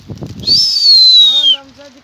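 A brief burst of fluttering pigeon wingbeats taking off comes with a sustained high whistle, then a lower voiced tone follows and fades.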